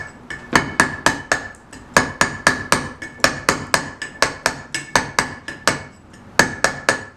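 A hammer strikes a steel chisel cutting into stone for a carved monogram, a rapid, regular series of loud ringing taps, close up, with brief pauses between runs.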